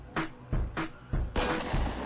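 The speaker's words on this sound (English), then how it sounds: "We see our first gunshots here." Gunshots from a film scene ring out in a sharp series of four or five moderately loud bursts, spaced irregularly over a couple of seconds.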